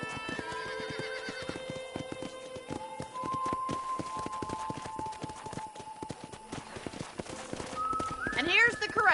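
Horses at a ranch corral in the Red Dead Redemption video game, with hooves clip-clopping steadily and a whinny near the end, over soft ambient music.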